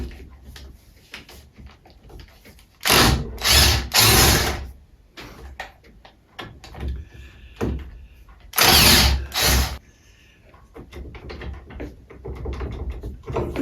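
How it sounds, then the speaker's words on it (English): Power tool spinning off half-inch nuts from the base of an engine cylinder, in two loud bursts of whirring and rattling separated by quieter handling noise and faint background clatter. "I have to take these 1/2-inch nuts off the bottom, and then the cylinder should just come out"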